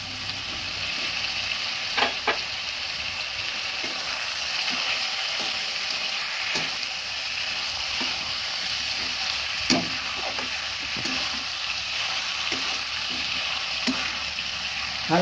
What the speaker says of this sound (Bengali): ভালোভাবে নেড়ে এবার দিয়ে দিচ্ছি ধনিয়া পাউডার আর জিরা পাউডার